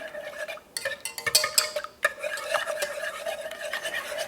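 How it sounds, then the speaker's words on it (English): Eggs being stirred into recipe liquids in a mixing bowl for a coconut cream pie, giving a steady close scraping and clinking whisk-against-bowl sound with brisk irregular strokes and no talking. "you'll just add your 4 eggs right to your liquids like that, and we'll give that a stir"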